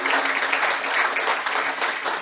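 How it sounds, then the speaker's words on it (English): A crowd at a dinner event in Auckland applauding steadily, dense clapping from many hands, fairly loud and continuous throughout. "yes, that does warrant a round of applause"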